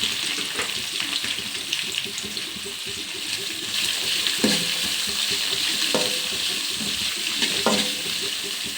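Two onions frying in a pan with urad dal, giving a continuous loud sizzle with the scrape and clatter of stirring running through it and a few sharper splashes, close up and with no voices.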